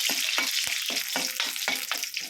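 A tempering frying in hot oil in a pan, with a dense crackling sizzle broken by regular scraping strokes of stirring about every quarter second, close and steady without talk.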